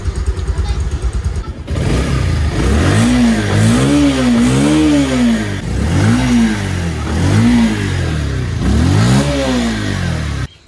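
A motorbike starts on its electric self-starter, then revs up and down repeatedly in several rising and falling bursts, close and loud over about nine seconds before cutting off.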